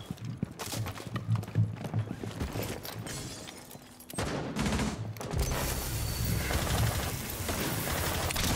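Gunfire in the tactical shooter Rainbow Six Siege crackles in rapid bursts and sharp shots, then shifts into a denser stretch of loud, continuous firing and impacts, with no talk.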